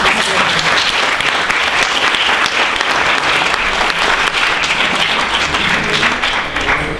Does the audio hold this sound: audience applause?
yes